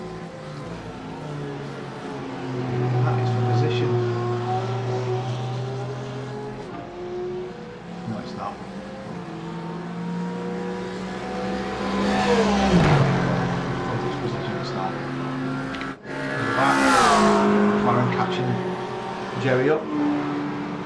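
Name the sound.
race cars, BMW and Mercedes, racing at Bathurst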